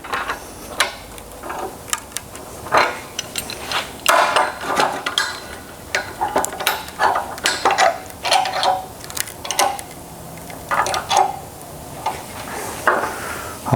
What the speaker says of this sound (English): now I'm going to clamp this to the table so it doesn't move on me.